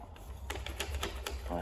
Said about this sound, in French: On va le couper parce que il est un peu grand.